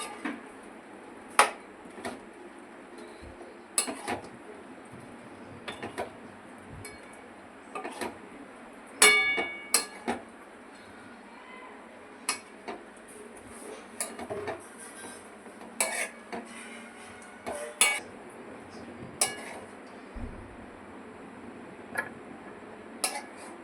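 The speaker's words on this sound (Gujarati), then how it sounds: "હવે આપણે દૂધીના પકોડા અંદર નાખી દઈશું." Bottle gourd pakoras tipped into Manchurian gravy in a pan, heard as scattered clinks and knocks of a spoon against the pan and utensils at a close, moderate level, irregular taps over a low kitchen background, no talking.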